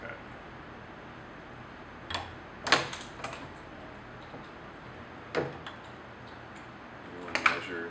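A spoke threading machine makes a test cut on a 2.0 spoke, giving a few faint, sharp mechanical clicks and ticks scattered over a quiet background, close by and alone.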